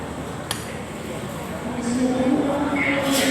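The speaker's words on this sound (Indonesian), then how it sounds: "itu adalah kereta api Logawa tujuan Purwokerto" A Logawa passenger train bound for Purwokerto passes Klaten station with rising rail rumble and a whining tone building toward the end, plus a sharp clink near the start and station ambience.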